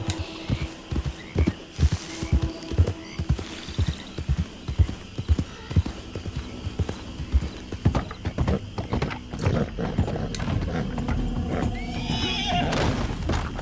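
Horses in Red Dead Redemption 2, with rhythmic hooves clip-clopping in irregular bursts and a loud whinny near the end, over a low game ambience with occasional voices.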